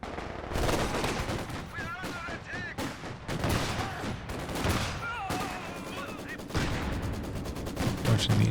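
Machine gun fire in the strategy video game Company of Heroes 2 during a 2v2 match, dense bursts mixed with other gunfire and explosions, loud and continuous, with a commentator talking over it.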